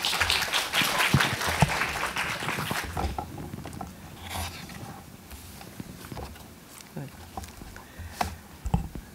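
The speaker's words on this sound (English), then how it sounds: "Please give her a round of applause." An audience at a seminar gives a short burst of applause that fades after a few seconds into scattered claps and room noise. A few isolated claps are still heard later.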